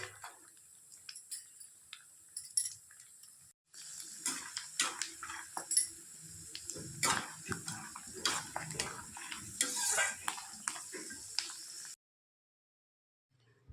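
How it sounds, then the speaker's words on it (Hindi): Almonds fry on low heat in a pan while being stirred, giving faint metallic scrapes and clinks over a quiet sizzle, with a short pause before the stirring resumes and then stops. "इनको हमें धीमी आंच पर ही तलना है, जिससे ये अंदर तक अच्छे क्रिस्पी हो जाएं।"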